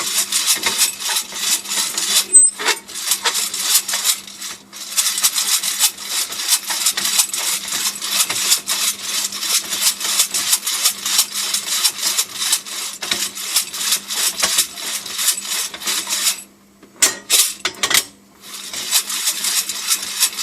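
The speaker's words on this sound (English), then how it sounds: "just pick it up and give it a shake. It's just to help to distribute the beans around." Coffee beans rattling inside a shaken FZRR700 baby roaster, a dense continuous metallic rattle held for long stretches with a few short pauses, close and loud.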